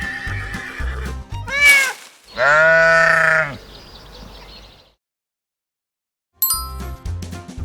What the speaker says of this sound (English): Sheep baa to stay together